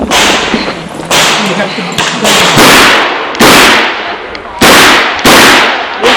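Loud, sharp shots from a Chiappa Rhino .38 Special revolver at an outdoor IDPA shooting match, roughly eight cracks at an irregular pace, each with a short echo, and a voice speaking briefly near the start.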